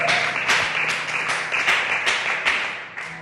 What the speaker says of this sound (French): est-ce qu'on peut applaudir quand même?